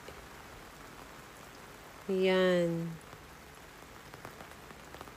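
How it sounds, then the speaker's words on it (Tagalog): Heavy rain keeps falling outside a flooded mini greenhouse, a steady soft patter throughout, with a single brief spoken word rising over it. "malakas pa rin yung ulan at hindi pa rin ako makauwi"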